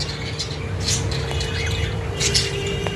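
A pair of budgerigars in a cage give short, bright squawks and chirps in small bursts over a steady background hum, close and fairly loud, with no talking.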